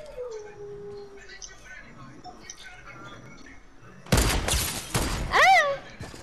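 A rapid burst of Fortnite gunfire, loud and close, rattles out near the end after quieter game sounds, followed by a sharp warbling cry; a voice speaks over it.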